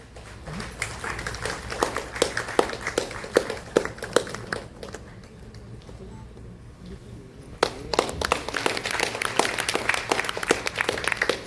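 Audience applause for health workers at a state-level mental health event, scattered close claps over a broader crowd, dipping to a thinner patter midway before swelling again.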